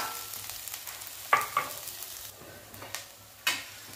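Masala paste frying in oil with spices in a pan, a soft steady sizzle with a few sharp stirring scrapes and clinks, close and moderately quiet, no talk.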